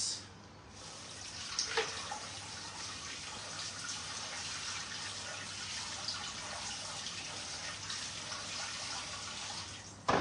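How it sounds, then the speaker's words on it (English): Cold tap water runs steadily over boiled eggs drained in a kitchen sink, a continuous close hiss and splash lasting throughout, with a few small clinks near the start. "we're going to drain that, run cold water over it."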